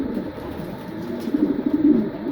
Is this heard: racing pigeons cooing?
yes